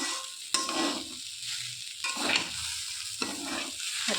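Rice and lentils for khichuri fry in a pan, hissing steadily while a spoon stirs and scrapes. Sharp knocks against the pot come at intervals.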